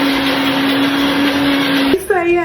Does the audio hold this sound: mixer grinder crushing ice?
yes